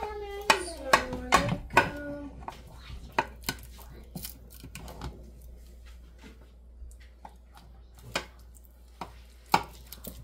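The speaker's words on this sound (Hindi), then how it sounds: "अब मैं इसका एक पीस काट के आपको चेक कराती हूँ।" A knife cuts through a piece of baked chicken lasagna, giving sharp clicks and taps against the dish, clustered early and then scattered, close and fairly loud.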